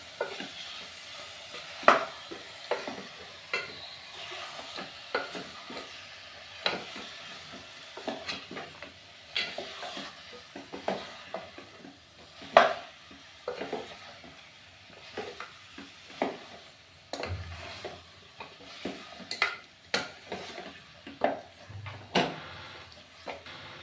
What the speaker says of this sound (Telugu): మసాలా అంతా పట్టేలాగా ఒక 10 minutes కుక్ చేసుకోవాలి